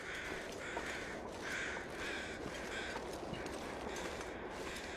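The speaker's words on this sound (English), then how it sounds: "I hear more crows." Crows cawing in The Long Dark survival game, a few harsh calls repeating at a moderate distance over a steady wind-like background hiss.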